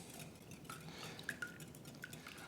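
Eggs are beaten gently in a bowl with a utensil, giving faint, quiet clinks and soft stirring taps that recur irregularly at close range.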